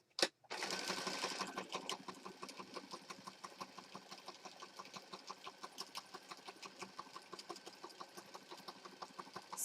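A sewing machine stitching layers of a junk journal cover together, a close, steady rapid clatter of the needle with rhythmic pulses after a brief start-up thump, quiet overall.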